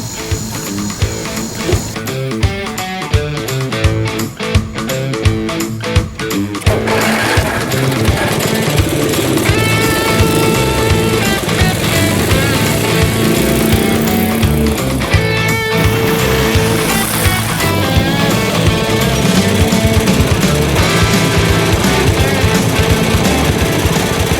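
A Cub Cadet lawn tractor with a freshly rebuilt engine and larger drive pulley runs steadily, a loud continuous mechanical drone with rapid ticking pulses at the start, no voices.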